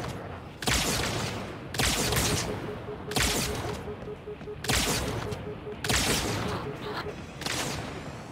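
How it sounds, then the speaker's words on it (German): Sniper rifle shots in the video game Halo 2 Anniversary, five loud sharp cracks at roughly one-second spacing, each followed by a booming decay, over a steady low game-ambience drone. "Zwei Schüsse vom Sniper und ich werde tot."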